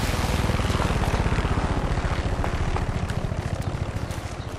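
A helicopter's rotor in Far Cry 6 thumps rapidly and steadily, loud and close at first, then slowly fading slightly as the chopping continues without pause.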